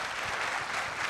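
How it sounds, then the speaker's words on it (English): Audience applause at a festival, Future Fest 2024, is heard as a short, steady burst of clapping from a crowd. "Another round of applause."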